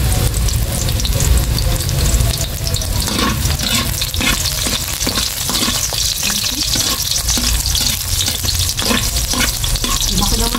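Onion and garlic sauté in a pan after boiled noodles for pancit habhab, producing a loud, close, continuous sizzle broken by frequent scraping stirs.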